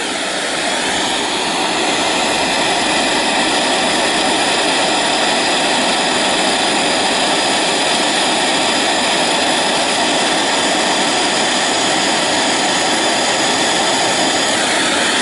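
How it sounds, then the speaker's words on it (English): A lampwork glass bead torch flame roars steadily and loud, a dense broadband rush of burning gas with wind gusting across it, unbroken for the whole stretch with no voices. "The fire."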